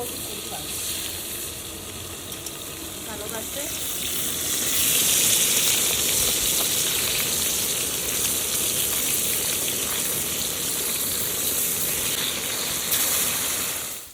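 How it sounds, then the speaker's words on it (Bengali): Fish fries in hot oil with a loud, dense, steady sizzle close by, swelling slightly midway and holding on without any voices. "আমার মাছ ভাজা হয়ে গেছে এবার আমি মাছ তুলে নেব"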